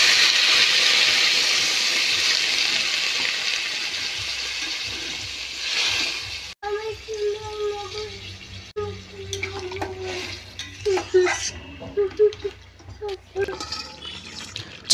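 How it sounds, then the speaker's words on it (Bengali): Water hits a hot pan of fried eggplant, potato and beans with a loud, hissing rush for several seconds, then fades into softer bubbling, scattered clinks and handling noises close by. "এখন জল দিয়ে দিব।"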